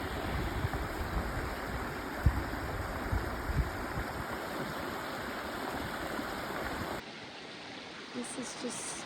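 A creek along the Appalachian Trail in Maryland flows steadily with a continuous, close rushing and babbling that softens slightly near the end.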